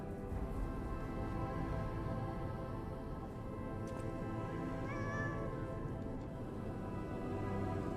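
A cat in the Lies of P video game gives a single short meow near the middle, sitting under steady, dense game ambience and music.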